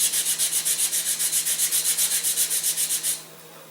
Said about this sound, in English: we're going to sand a little bit of excess off the back of the nose cone